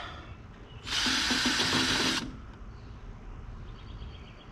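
A power drill fitted with a 1/4-inch drive adapter spins a nut on a Farmall tractor, a loud steady whir lasting about a second and a half, close up, with no talk over it.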